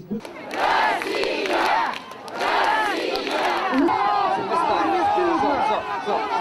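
An angry crowd outside a city council building shouts over a speaker, voices rising in loud overlapping waves of chanting and yelling with brief dips between surges.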